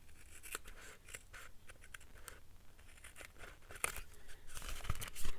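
Scissors snipping the top edge of paper for a spooky-themed mini hinge journal with file tabs, a close, quiet run of soft crisp cuts and light paper rustles, with no talking.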